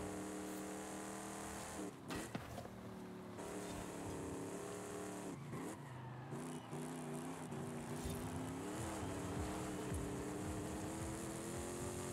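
A 450 hp spec-series race car in the Forza Horizon 5 video game drones at high revs, a steady engine tone with brief shifts and tire squeal, loud and continuous with no talk.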